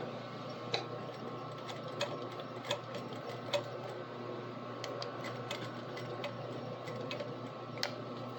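A sewing machine stitches fabric on a garment with boning, giving a steady mechanical hum with faint, evenly spaced ticks and no talking.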